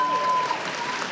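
Applause for baccalaureate graduates at a spring afternoon graduation ceremony, a steady dense wash of clapping from a large audience, with a faint sustained tone running beneath it.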